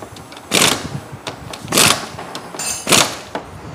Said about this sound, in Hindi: अब इसको और टाइट करने के लिए गन यूज़ कर लेते हैं